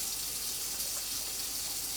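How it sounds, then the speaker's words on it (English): Water gushes steadily into a soup pot, a close, continuous hissing pour with no talking over it. "then you just add your water, just like that"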